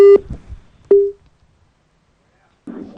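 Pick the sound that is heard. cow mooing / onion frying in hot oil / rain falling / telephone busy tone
telephone busy tone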